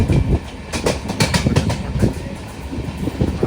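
A Tungabhadra Express train hauled by a WAP-7 electric locomotive rolls past a crossing, its wheels beating a steady clickety-clack rhythm of rapid rail joint knocks, loud and close, with no voices.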